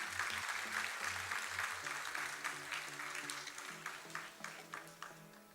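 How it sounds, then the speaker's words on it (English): An audience at the CIVITAS annual convention inaugural ceremony applauds to welcome guests, a steady wash of clapping that slowly thins, with a low sustained musical tone underneath. "Can we please have a huge round of applause to welcome all the guests of the event."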